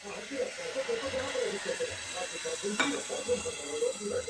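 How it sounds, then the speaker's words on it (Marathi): Spices stir and fry in oil for an egg curry, a soft steady sizzle with scraping spoon strokes and a single sharp clink, faint and close under a person speaking. "मसाल्याला व्यवस्थित तेल सुटेपर्यंत परतवून घ्यायचं तेलामध्ये मसाले"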